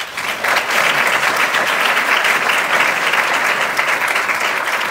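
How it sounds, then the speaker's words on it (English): Steady applause from an audience at a transit authority's State of Transit address, dense and sustained for the full length after a brief ramp-up, with no speech over it. "Please give her a round of applause."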